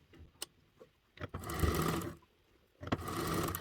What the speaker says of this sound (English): we're sewing this on with a 1/4 inch seam allowance